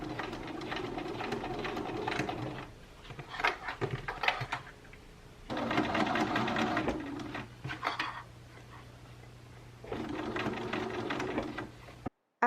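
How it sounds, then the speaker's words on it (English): A sewing machine stitches all the way around a circle skirt dress in three long, steady running bursts separated by quieter pauses and handling noises, heard close up with no voices. "I'm just going to sew it all the way around."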